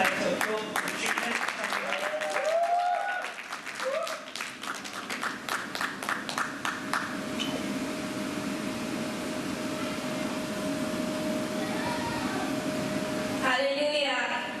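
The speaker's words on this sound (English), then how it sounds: "So if you could just like to applaud Katrina" Applause from a church audience at a gospel music event rises and fades over the opening seconds, then gives way to a steady hum and low room murmur, with a voice briefly near the end.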